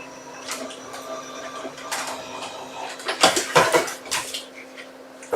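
A card-making die-cutting machine runs with a steady whirring hum, building to a cluster of loud mechanical clatters and clicks near the end.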